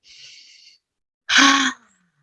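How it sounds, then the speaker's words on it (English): One person takes a deep breath during a guided relaxation, first a soft, airy inhale of under a second, then after a short pause a louder, breathy exhale, close up and with no talk. "take a deep breath"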